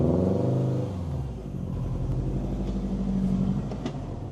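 A Subaru WRX drives off for a brake test, its engine a steady low rumble with a harmonic climb near the start as it pulls away, then a continuous moderately loud drone until the end.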